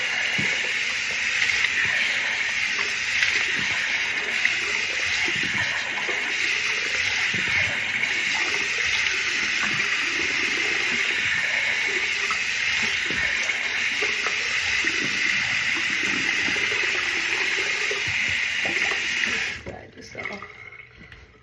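Running water from a tap while washing a face during a skincare routine, a steady hissing gush lasting about twenty seconds before stopping abruptly, with faint voice sounds beneath it.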